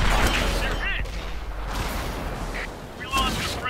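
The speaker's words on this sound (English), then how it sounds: "I'm being shot at." Tank cannon fire striking the player's tank in the World of Tanks video game, heavy booming impacts with rumbling aftermath and whining game effects across the span.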